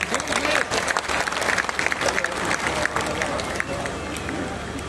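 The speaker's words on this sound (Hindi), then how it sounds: "तो ताली बजा के बताइए।" A crowd at the Maharajganj festival poetry gathering claps in a continuous, dense burst of applause, with some crowd noise and voices mixed underneath.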